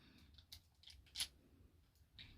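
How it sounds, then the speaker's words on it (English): Scissors cut open a small package with a few quiet snips and crinkles, including one sharper cut near the middle and another at the end, over low background noise. "I think we can open with the scissors."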